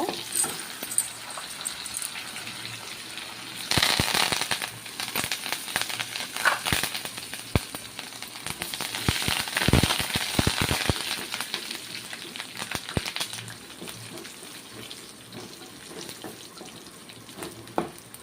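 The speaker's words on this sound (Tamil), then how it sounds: "கருவேப்பிலெல்லாம் போட்டு நல்லா பொன்னிறமாக வரணும்" Curry leaves and dried chillies frying in hot oil for brinjal masiyal, a steady crackling sizzle with sharper pops and spatters bunched in the middle, fairly close and without talk.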